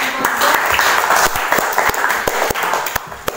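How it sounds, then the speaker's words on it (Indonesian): Audience applauding after a teacher's lesson on patience and gratitude, a steady burst of clapping from a room of people, moderately loud and close, with sharp individual claps standing out near the end. "sekali lagi kita berikan aplaus"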